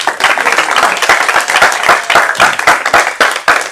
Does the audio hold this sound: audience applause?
yes